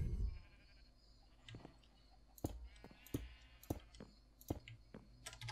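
Faint bleating sheep calls mix with sharp repeated clicks and thumps, as in game sound effects, at a low volume, from Minecraft gameplay.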